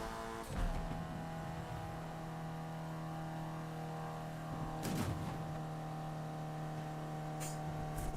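Junker car in Need for Speed Unbound driving with a steady, droning engine hum at constant moderate loudness, a thump early on and a brief whooshing pass midway.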